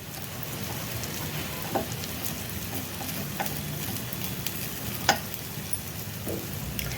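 Fasting-style appe cook in an appe pan with a soft, low sizzle, broken by a few sharp clicks as the pieces are flipped, one louder tap near the end.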